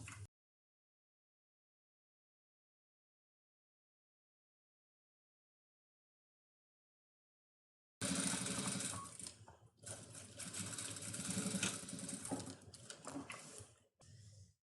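A domestic sewing machine runs a straight seam on setting 3, joining the lining and fabric over a zipper for a lunch bag. After a long silence it starts up close and loud, whirring steadily for about six seconds with brief pauses, then a short final burst.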